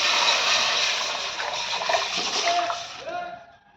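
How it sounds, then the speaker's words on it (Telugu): Six glasses of water pour into a pot of three glasses of rice being made into bagara rice, a loud close rushing splash that holds steady and then tapers off as the pour ends. "ఇందులో నేను మూడు గ్లాసులకి ఆరు గ్లాసుల వాటర్ పోసుకుంటున్నాను"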